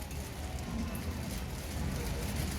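Heavy rain pouring outdoors, a dense, steady hiss and patter of drops on surfaces throughout, loud and even with no pauses or voices.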